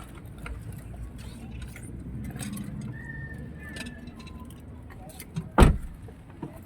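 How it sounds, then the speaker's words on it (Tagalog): Car keys jangle softly close by amid faint background rustle and low hum, followed by one sharper metallic clack near the end, with no talking heard. "Sa isang susi ng kotse ko."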